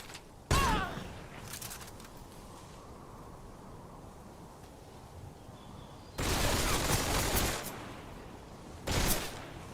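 Gunshots fired at a boss in the Metal Gear Solid 3 remake, a few sharp bursts spaced apart over a quiet, low background.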